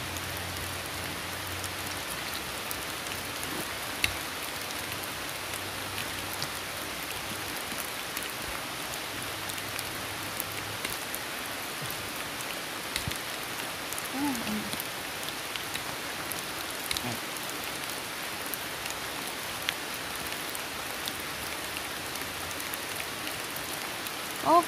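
Heavy rain pours outdoors over a spot where termite mushrooms are being dug from sticky soil, making a steady, even hiss for the full stretch, fairly quiet and unbroken, with no voices.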